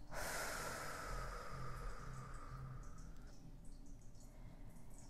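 A single deep breath during a guided meditation: a soft, airy inhale swells close and gently, then trails off into a quieter breathy exhale against a hushed background.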